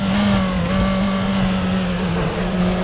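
A pack of 28 Formula 3 race cars launches from the start in the RaceRoom racing simulator, their engines merging into a loud, sustained, high-revving drone that holds steady throughout.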